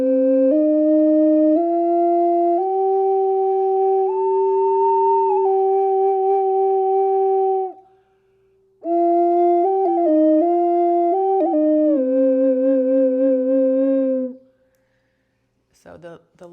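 An ocarina played on both chambers at once, two clear whistly tones moving together in a harmonized scale, a pause midway, then more paired notes, close and solo with no talk.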